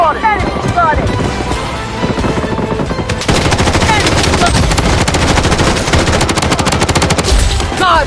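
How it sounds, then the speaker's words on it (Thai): Gunfire in the video game Blood Strike, with dense rapid machine-gun bursts and scattered single shots rattling almost without pause, loud and close, over wind-like noise and a voice talking underneath. "ข้างหลังมีเสียงปืนประทะกัน"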